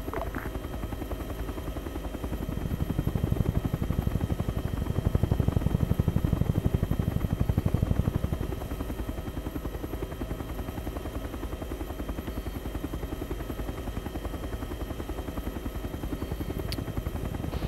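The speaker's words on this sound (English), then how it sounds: "Did Prodigy take control of the helicopter?" Helicopter rotors thump steadily and continuously in the video game ArmA 3, swelling louder for a few seconds before settling back into a constant drone.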